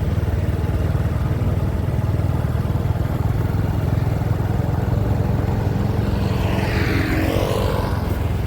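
Motorcycle engines rev and roar steadily along a night street in Vientiane's Chinatown near high-rise construction, a loud continuous drone with a vehicle sweeping past near the end.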